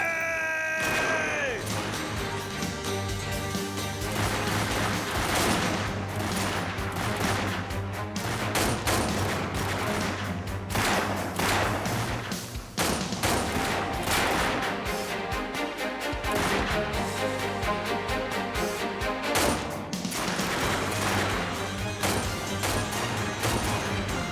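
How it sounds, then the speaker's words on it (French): Gunfire during a shootout, with dense repeated shots and crashes layered over dramatic music throughout. "On tire depuis tout à l'heure et ça sert à rien. Arrête de parler et continue de tirer."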